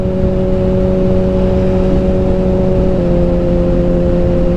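A Kawasaki ZX6R motorcycle engine runs while riding, giving a loud, steady, close drone with strong harmonic tones. The pitch drops slightly partway through. Steady wind rush sits underneath.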